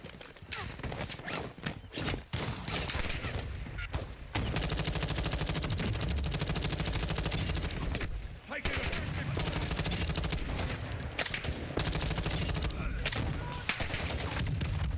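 Sustained automatic gunfire in the shooter game Black Ops 6, with rapid continuous bursts that fill most of the stretch, broken by brief gaps and overlaid with other loud game noise.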